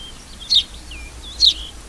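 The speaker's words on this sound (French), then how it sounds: "Les hirondelles étaient arrivées." Swallows chirping in spring, two short high twittering calls about a second apart, fairly close, over a low steady background hum.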